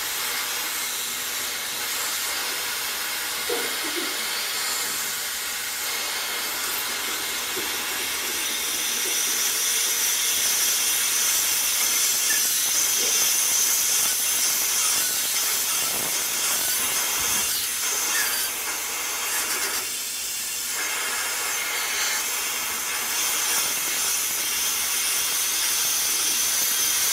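Compressed air hisses steadily from a valve fed by a compressor, a loud, continuous broadband rush lasting throughout with slight swells and no talking.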